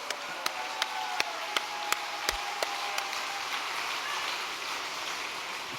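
Continuous applause washes through a hall at a Korean religious devotional gathering, a steady dense hiss of many hands with faint regular clicks running through it.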